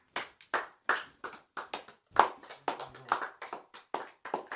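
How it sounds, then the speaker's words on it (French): A congregation at a midnight prayer service claps for the Lord in an irregular run of sharp, close handclaps, some overlapping, with no talking. "On acclame pour le Seigneur"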